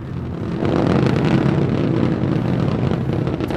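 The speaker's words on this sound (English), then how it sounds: "Starship 15 is airborne. Three engines, baby!" The SpaceX Starship SN15 rocket's three Raptor engines roar at launch, a loud continuous low broadband rumble that swells after a moment and holds steady, distant and buffeted by wind.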